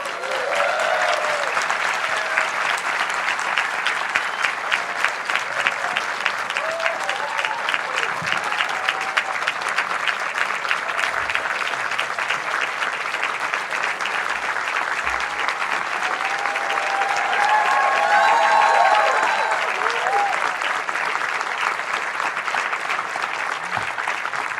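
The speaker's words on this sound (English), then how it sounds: "I think they were clapping for you" Sustained applause from a large live audience greets Stacey Abrams and Dulé Hill, a thick even wash of clapping that holds for the whole stretch, with faint raised voices rising briefly.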